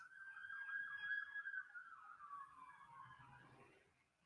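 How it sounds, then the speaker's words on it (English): A far-off police siren wails and yelps, then slowly fades, faint and alone over a low background hum. "Yeah, y'all hear them police sirens?"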